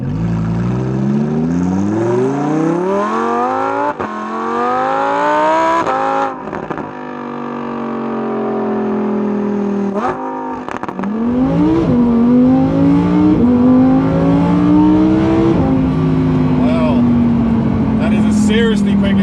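A Lamborghini supercar driven in sport mode revs hard through rising acceleration pulls, with sharp throttle blips on the downshifts between them. The engine is close and loud throughout, with a person talking over it.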